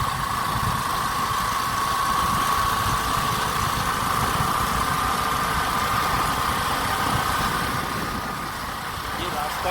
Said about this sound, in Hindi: शुरुआत मोटरसाइकिल से निकला था